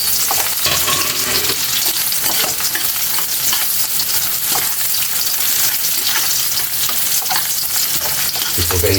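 Garlic and onion fry in a pan for bopis, a loud, constant sizzle with scraping stirs throughout, close up and without talk.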